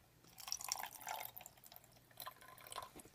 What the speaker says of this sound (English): I'm just going to put a little bit of water in it.